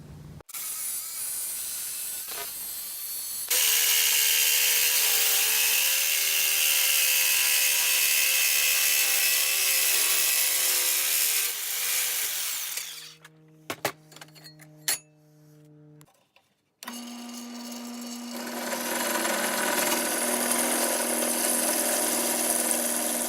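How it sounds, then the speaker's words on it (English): A loud power tool grinds steadily through a metal motorcycle rim ring for several seconds, stops, then after a few brief mechanical clunks starts cutting again, harsh and close. "I'm just going to cut this part out, drill these holes, and start welding"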